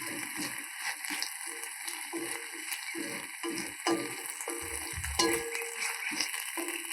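Bajji chillies sautéing in a pan for chutney, a soft sizzle with irregular clicking and stirring clatter close by, steady and fairly quiet.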